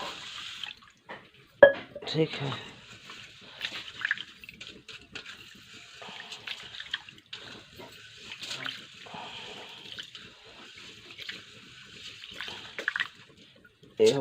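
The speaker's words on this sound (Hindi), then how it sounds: "इसको एक बार और पानी में धो देते हैं अच्छे से।" Rice being rinsed in water in a home kitchen, with soft sloshing and dripping at close range that continues intermittently under occasional speech.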